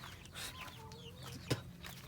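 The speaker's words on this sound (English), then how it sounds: "Well, it's just a chicken." A rooster clucks in short, soft calls with one sharp sound near the middle, all fairly quiet and with no talk.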